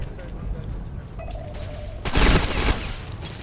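SMG gunfire in the video game Ghost Recon Phantoms, a short loud burst of rapid automatic fire lasting under a second after quieter game ambience, with a voice talking over the game.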